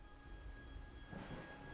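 Rain and a low rumble of thunder sound in the game Wuthering Waves, a quiet, steady wash with the rumble swelling toward the end, without voices.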